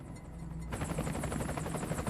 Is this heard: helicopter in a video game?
yes